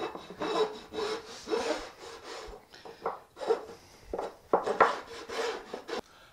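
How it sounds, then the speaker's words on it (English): A hand file rasps at an angle along the rough edges of a wooden groove in a workbench build, in repeated short scraping strokes with brief pauses between them, close and fairly quiet. "So I put my file at an angle, and then I just kind of get rid of these"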